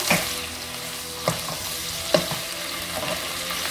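Firecracker prawns stir-fry in a hot pan with a steady, close sizzle, punctuated by a few sharp scraping stirs of the utensil, with no talking.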